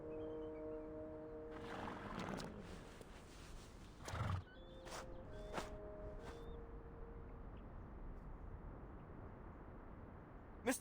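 In the video game Reverse: 1999, a horse whinnies loudly, followed by a few shorter snorts and neighs, with hoof clip-clops and a steady background hum.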